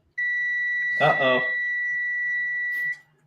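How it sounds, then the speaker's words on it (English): An electronic device gives a single long, steady high-pitched beep lasting nearly three seconds, with a harmonic tone above it and a low hum underneath; a voice speaks briefly over the middle of the tone. "Please don't beep."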